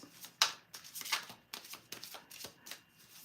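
A deck of dragon oracle cards being shuffled, giving a quick run of crisp riffling and slapping bursts that come in an uneven rhythm, heard up close with no one talking.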